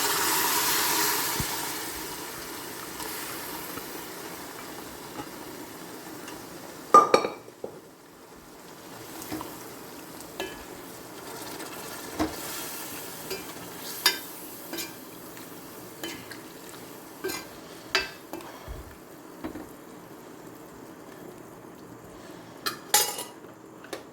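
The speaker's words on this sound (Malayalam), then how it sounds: "നേരത്തെ വേവിച്ച് വെച്ചിരുന്ന ബീഫ് അതിൽ ഒഴിച്ച് കൊടുക്കാം" Metal spoon stirring and scraping pre-cooked beef into fried masala in a pan, irregular clinks and scrapes at close range over a low background hum, no talking.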